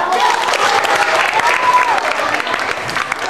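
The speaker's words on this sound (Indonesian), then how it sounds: "Yang lain, beri tepuk tangan dong." Loud, dense applause from an audience at a sixth-grade primary school retreat, steady throughout as a crowd of clapping hands fills the room, with a faint whistle-like tone drifting over it.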